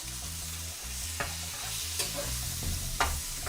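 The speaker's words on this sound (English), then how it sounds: "I'm gonna pour some salsa in here, and we're just gonna mix all this up" Chips, salsa and eggs sizzle steadily in a frying pan while a utensil scrapes and stirs, with a few sharp clinks against the pan and a low rhythmic hum underneath; no one speaks.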